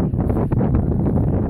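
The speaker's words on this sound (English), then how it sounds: "A little bit windy," Gusty wind buffets the microphone in low, rumbling bursts, loud and close, with no speech.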